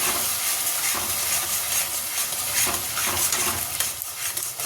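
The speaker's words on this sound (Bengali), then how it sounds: "ভালো করে মশলাটাকে কষিয়ে নেব" Ground cumin, Kashmiri chili powder and sugar sizzle loudly as they are stirred and fried in a pan, with steady hissing and repeated scraping strokes throughout.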